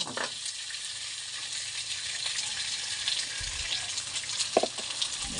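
Beef or other meat for kaldereta sizzles steadily in a pan over golden-browned onion and garlic, a continuous frying hiss with a few louder spits and stirring knocks near the end.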